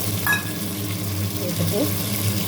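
Onions and chopped country tomatoes fry in a pan, a steady close sizzle with a brief stir of a utensil early on, no talk over it.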